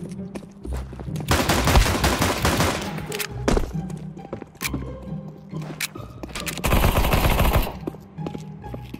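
Gunfire in Counter-Strike 2: repeated bursts of automatic fire and single shots at moderate distance, with sharp cracks scattered between two long, loud volleys, no talking.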